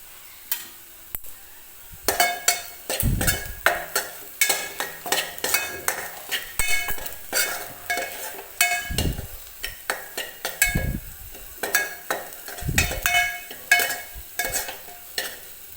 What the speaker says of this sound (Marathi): तर बारीक गॅसवरती मी मसाला भाजून घेते